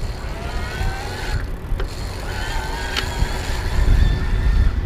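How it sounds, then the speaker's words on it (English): A Gazelle CityZen T9 HMB e-bike's mid-drive motor in turbo assist, giving a steady whine under road and wind rumble while riding, fairly loud, growing slightly stronger toward the end. "you can hear that motor. It's much more pronounced than some of the Bosch active line motors"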